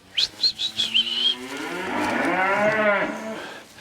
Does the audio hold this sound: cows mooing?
yes